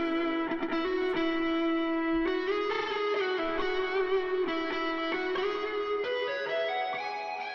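A sustained, distorted synth tone drifts through shifting pitches, swelling into a washed-out ambient reverb tail that slowly fades out, with effect-heavy layers blending into a soft haze.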